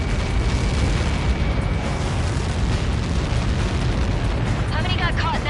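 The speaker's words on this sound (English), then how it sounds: "How many got caught in that explosion?" A massive, sustained explosion roars across the whole span in Ace Combat 7, a dense, loud rumble from a projectile impact blast, with faint voice chatter rising near the end.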